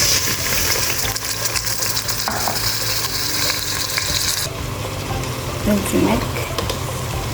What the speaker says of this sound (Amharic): ሩዙን በዘይቱ ጥብስ አደርገዋለሁ ማለት ነው።